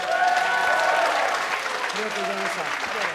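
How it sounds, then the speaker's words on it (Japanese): Sustained audience applause fills a hall after a kickboxing bout, steady and fairly loud from start to finish, with a few voices calling out through it. "今一度盛大な拍手をお送りください。"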